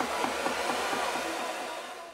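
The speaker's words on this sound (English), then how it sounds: "hitting it with the hair dryer on the cool setting" A hair dryer on its cool setting blows steadily across alcohol ink, a close, continuous airy whoosh that fades slightly toward the end.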